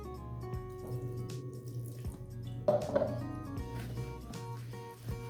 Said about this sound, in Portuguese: Vou colocar mais um pouco de água.